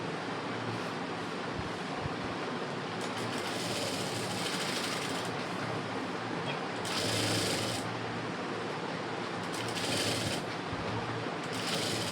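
A sewing machine stitching the lining of an embroidered blouse, giving a continuous close whir with several louder surges as the stitching speeds up, and no talking.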